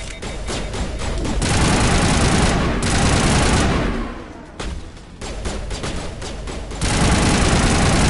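Sustained automatic gunfire in a Mass Effect battle, dense rattling bursts loud and close, broken by a short lull before the shooting resumes harder.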